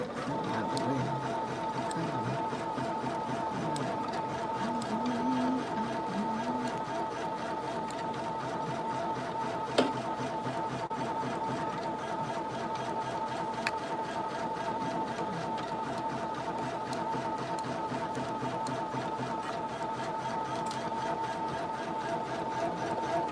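An embroidery machine stitches steadily with a fast, even mechanical hum and faint ticking that runs unbroken throughout, fairly quiet, with no talking.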